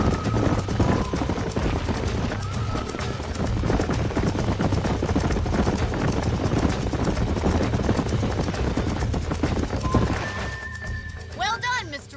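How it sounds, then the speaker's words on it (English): Horses galloping in the Red Dead Redemption video game, continuous rapid hoofbeats with a whinny or two, layered under game sounds and speech, easing off near the end. "These are fine horses"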